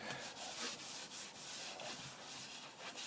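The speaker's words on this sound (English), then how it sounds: "I'm just doing lightly with the wire wool" Wire wool lightly rubbing a shellac finish on carved wood makes a soft, quiet, close scratchy rasp in quick repeated back-and-forth strokes, with no voices.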